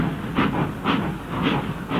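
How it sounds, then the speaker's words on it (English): Steam locomotive on New Zealand's Rimutaka railway incline, puffing in a steady rhythm of loud, close chuffs about twice a second. "The puffingest engines ever."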